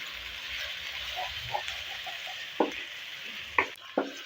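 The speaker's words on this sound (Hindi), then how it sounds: "ये देखिए, अदरक लहसुन भी फ्राई हो गया।" Ginger and garlic frying in a pan, a low steady sizzle with a few sharp stirring clinks and scrapes near the end, close and fairly quiet.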